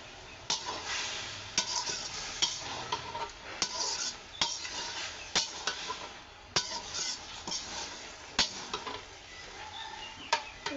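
Rohu fish pieces rubbed with turmeric and salt frying in oil in a pan, a steady soft sizzle broken by repeated sharp scrapes and clacks of a spatula stirring and turning them, close and alone.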